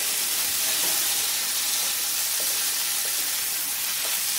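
Rice being stirred with spices in a hot frying pan for Bengali tomato rice, a steady close sizzle and hiss with faint scraping throughout, no talking.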